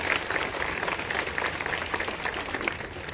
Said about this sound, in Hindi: तालियां गूंजते रहना चाहिए।